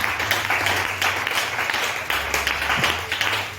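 A church congregation applauds at a religious service, dense steady clapping filling the space with a low hum of voices underneath.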